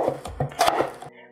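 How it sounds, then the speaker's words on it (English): Potatoes being chopped on a board in a home kitchen, a few irregular knife thuds and taps over about a second, close and moderately loud, with faint background noise and no clear speech. "Now let's chop up some spudtaters."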